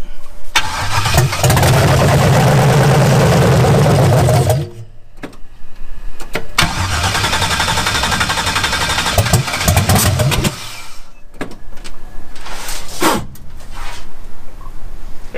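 A rebuilt 5.3 LS V8 cranks and fires for its first start-up, roaring loudly up close for several seconds, then cutting out and restarting with rough, uneven revving and brief pauses between bursts.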